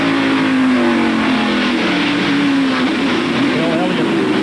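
Jimmy Hensley's NASCAR stock car races down the back straightaway at the 1993 First Union 400, a loud close engine roar with its pitch sliding and climbing, under a commentator talking.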